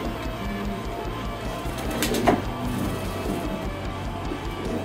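Pigeons coo softly in a loft, a low steady murmur of several birds with one brief louder flutter or call in the middle, no talking.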